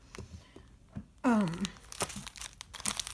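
Crinkling and tearing of a taped package of cross stitch supplies, with a loud rip-like burst midway followed by rustling and handling noises, close up.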